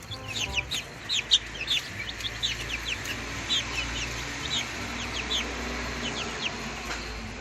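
Chickens and other fowl clucking and chirping in a poultry pen, scattered short calls over a steady low background hum, fairly close, with no talk.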